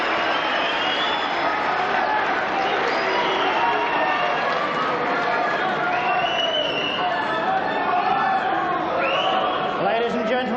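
A large crowd at the 1998 Masters snooker final, Stephen Hendry against Mark Williams, keeps up a steady roar of cheering, shouting and chatter throughout, loud and unbroken with no pause.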